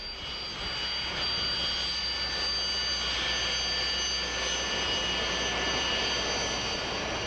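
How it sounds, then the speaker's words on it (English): A Sukhoi Su-25 Frogfoot attack jet of the Russian Air Force roars steadily with a whining jet engine tone, sustained and fairly distant, with no voices. "the true workhorse of the Russian Air Force is the Sukhoi 25"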